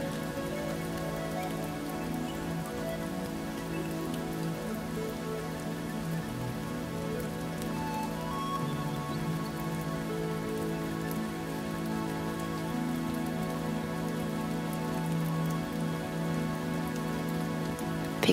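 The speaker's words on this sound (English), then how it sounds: "Picture the rain falling onto the rooftop right now." Steady rain falls on a rooftop in a dense, even patter that never lets up, blended with soft sustained tones underneath and no voices.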